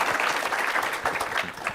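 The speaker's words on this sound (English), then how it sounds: "So maybe first a quick round of applause for our panelists." A brief burst of audience applause for panelists at an AI and education summit, quick, fairly close clapping that fills the short moment with steady intensity.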